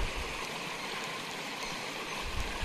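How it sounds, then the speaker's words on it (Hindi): A river flowing through dense jungle gives a faint, steady rushing and gurgling wash of water, continuous and slightly distant, with no voices. "नदी बह रही है"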